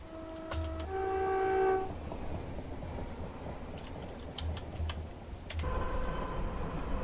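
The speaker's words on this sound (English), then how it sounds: "Let's go ahead and let's watch the train whizzing by." A Class 319 electric train in Train Simulator passes by outside, a rumbling rush of motors and wheels with a sounded horn near the start, set against a rainy, thundery ambience and no talk.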